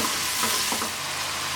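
Ginger and garlic paste, two tablespoons of each, sizzles steadily in a hot pan while being stirred, with a continuous close frying hiss and soft scraping movements and no voices.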